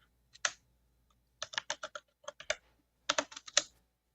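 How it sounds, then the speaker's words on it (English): Computer keyboard typing in a quiet room, distinct clicky keystrokes in short irregular bursts with brief pauses between them. "I can hear him typing."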